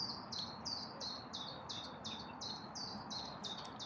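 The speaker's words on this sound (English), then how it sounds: "lots of birds chirping and stuff around here." Small birds in a city park near Newcastle chirp in a quick repeated series of high bright notes over steady outdoor background hum, moderately close.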